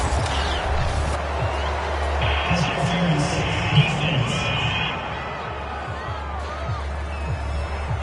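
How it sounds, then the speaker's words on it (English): A home stadium crowd at a football game roars and cheers after an interception, a loud sustained wash of voices that eases slightly toward the end, with commentary talk over it. "This home crowd, they're happy with that call."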